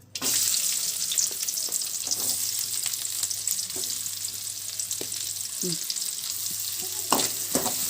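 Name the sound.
chopped onions frying in oil for egg biryani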